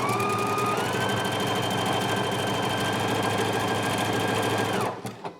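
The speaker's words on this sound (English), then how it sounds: "I'm going to start sewing here." Husqvarna Viking Epic 980Q sewing machine stitching a buttonhole, a loud close continuous whirring hum that shifts pitch slightly early on, then stops abruptly near the end, followed by a couple of faint clicks.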